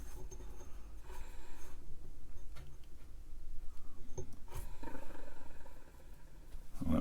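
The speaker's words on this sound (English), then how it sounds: "the bearing in the motor making noise" Worn motor bearings in a Siemens FDD 100-8 floppy drive from an Altair 8800 setup, running unlubricated with a steady low rumble and uneven grinding, scraping flutter throughout, close and fairly loud with no talk.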